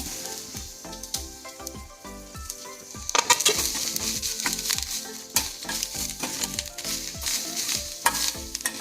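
Egg and potato curry ingredients fry and get stirred in a pan, with a steady sizzle broken by rhythmic scraping strokes that grow busier and louder partway through. No one speaks.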